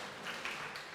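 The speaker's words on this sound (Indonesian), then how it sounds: "Beri tepuk tangan Ibu Bapak Saudara." A church congregation applauding together during a Sunday service, a steady wash of many hands clapping at a distance, fairly faint and continuous without talk.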